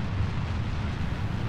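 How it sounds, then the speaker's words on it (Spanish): Solid-fuel rocket boosters fire in the Kerbal Space Program game, a steady, dense roar with a heavy low rumble that stays continuous and loud throughout, with no voices. "Los cohetes de combustible sólido, pues que están dando aquí todo el impulso inicial"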